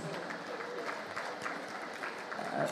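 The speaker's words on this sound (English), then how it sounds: "A round of applause, please." Guests at an Africa Food Prize gala dinner give soft, distant applause, an even patter of many hands that continues steadily throughout without speech.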